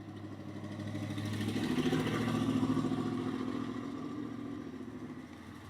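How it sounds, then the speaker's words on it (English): A rough-running V8 vehicle drives past, its engine sounding unhealthy and misfiring; a loud, steady mid-range engine rumble with clattery pulses swells as it nears and fades slightly as it passes. "That thing didn't sound too healthy that just drove by."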